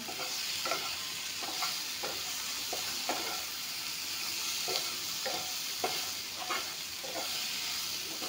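Vegetables stir-fry in a hot pan, salted, with a constant loud sizzle and regular scraping strokes of a spatula every second or so, no speech.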